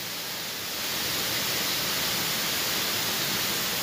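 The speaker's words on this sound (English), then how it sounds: "But this is Jones's waterfall in Tennessee." Jones's waterfall on an Appalachian hiking trail in Tennessee roars as a steady, loud broadband rush, swelling slightly in the first second and then holding constant with no voices.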